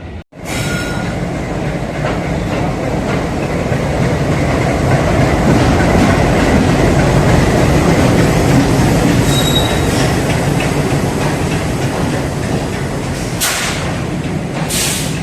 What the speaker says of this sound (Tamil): நம்ம ட்ராவல் பண்ணக்கூடிய யஸ்வந்த்பூர் டு மங்களூர் ஜங்ஷன் போகக்கூடிய ட்ரெயின் வந்து பார்த்திங்கன்னா வந்துட்டுருக்குங்க.